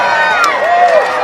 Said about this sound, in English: Crowd making some noise here now.